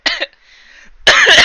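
A cough set off by bubbling soda swallowed from a mug, a short burst at the start, then a quiet gap and a second louder, longer coughing fit near the microphone.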